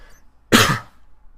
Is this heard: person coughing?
yes